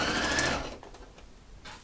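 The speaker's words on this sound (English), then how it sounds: "just going to sew straight down to the end." A sewing machine stitches a seam while inserting a godet, a fast, loud mechanical whir for about half a second that then stops, followed by faint handling sounds.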